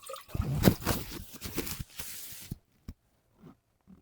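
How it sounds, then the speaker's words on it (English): One cup of water is poured into a pot while making homemade chocolate syrup, a short splashing gush lasting about two and a half seconds, followed by a few faint drips and taps. "we are going to go ahead and add our 1 cup of water"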